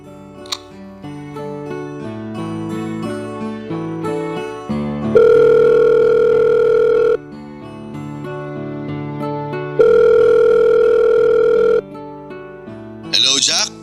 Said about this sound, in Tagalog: Teka lang tatawagan ko siya.